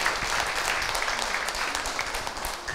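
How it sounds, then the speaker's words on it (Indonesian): An audience at a religious talk claps together, a dense, fairly soft patter of applause lasting a few seconds with no talk over it. "tepuk tangan untuk Abi"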